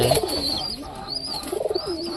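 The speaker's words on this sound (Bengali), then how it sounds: "আর এদিকে এই পায়রাগুলা বসে আছে" Pigeons perched nearby coo softly in repeated rounded calls, several overlapping phrases close to the listener with light background rustle.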